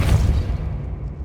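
Depulso spell blast in Hogwarts Legacy, a single deep booming burst that swells and then fades quickly into a short rumbling tail.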